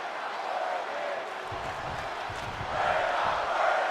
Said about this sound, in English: And the crowd chanting, "We're not worthy" to King Alexander.